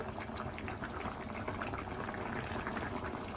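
A covered pot of Godavari-style cheeramenu (tiny whitebait fish) curry with mango simmering on the stove, giving a steady close bubbling and hissing texture throughout with no pauses.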